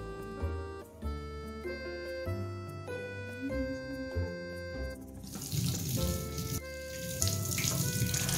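Water streams steadily from a tap as coffee body scrub is rinsed off hands, a continuous splashing gush that grows brighter and noisier partway through, with no talking.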